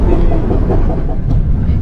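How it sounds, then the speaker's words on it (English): The White Pass scenic railway train in Skagway, Alaska, rumbles past with a loud, steady, broadband roar that stays continuous throughout, with no clear voices over it. "So the train makes a stop here in downtown Skagway"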